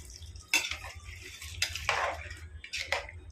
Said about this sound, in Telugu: ఒకసారి తిప్పుకొని